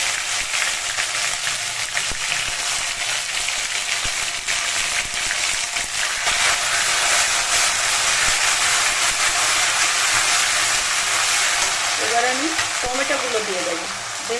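Green chilli paste frying in hot oil in a pan, a steady close sizzle and spatter that runs continuously without letting up.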